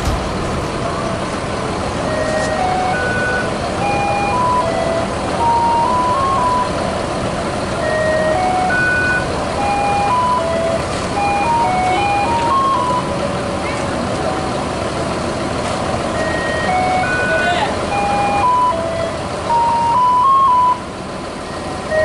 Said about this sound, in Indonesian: Bus KMS meninggalkan Terminal Borosolok menuju daerah tujuan.